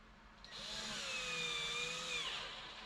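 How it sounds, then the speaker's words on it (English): Power driver whirring as screws are driven to fasten the second layer of a workbench top to the first in a small wood shop, a steady loud whine with shifting pitch lasting a couple of seconds after a brief start. "screwing the second layer to the first layer, and I'll use clamps"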